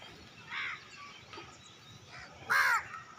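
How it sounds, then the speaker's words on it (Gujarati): Crows caw outdoors after sev is scattered for them to eat: two separate caws, the second louder and harsher, over a constant faint background hiss. "કાગડા ભાઈ સેવો ખાવા આવી ગયા છે"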